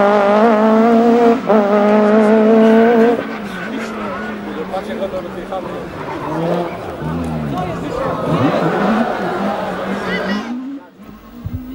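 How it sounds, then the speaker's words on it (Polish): A rally car at the 1996 Rajd Polski revs hard with a harmonic engine howl and tire squeal, the pitch rising and falling as the driver struggles for control, under a commentator's voice before cutting off abruptly. "Jak widać i słychać, moc tego silnika jest ogromna."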